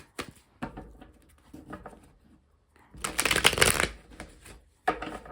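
Tarot cards being handled, shuffled and turned over, soft papery flicks and taps with a dense burst of rapid riffling in the middle, close and fairly quiet.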